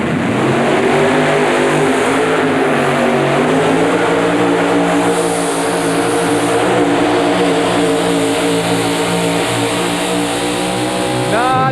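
A Chevrolet El Camino truck pulls a sled at an indoor 4WD truck pull in a 1991 arena event, its engine roaring loud and steady at high revs throughout with a harmonic drone, and a rising rev at the end.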